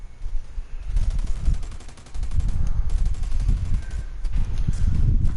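Rapid bursts of video game gunfire with a near-perfect-accuracy weapon, loud and sustained in repeated volleys with brief pauses between.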